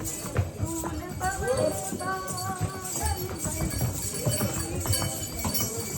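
Horse hooves clip-clopping on the Vaishno Devi pilgrimage trail, a steady stream of overlapping hoof clops among other trail noise, with people talking and chanting around.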